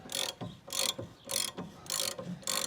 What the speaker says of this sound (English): So using a 19mm on this top nut, and as suspected, that's already turning